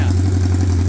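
A 1979 Honda CB750 F Super Sport with its rusted exhaust pipes cut off runs with a loud, raw, steady idle pulse, close by and alone.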